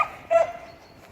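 A dog gives one short, sharp bark close by during a group walk, followed by a brief fading whine and quiet.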